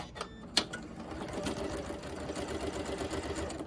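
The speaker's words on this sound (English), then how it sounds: "So now we're just ready to go ahead and sew this seam." A sewing machine stitches a quilt binding seam, with a couple of sharp clicks at the start before settling into a steady, close mechanical whir.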